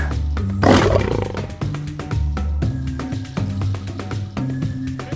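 A lion roars several times, loud and close, in repeated deep bursts, with no talking.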